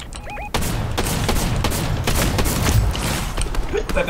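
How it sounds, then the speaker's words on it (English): Rapid drum shotgun fire in Fortnite, a dense string of loud close blasts in quick succession after a brief quieter moment, continuing almost without pause amid other in-game shooting. "I have a drum shotgun"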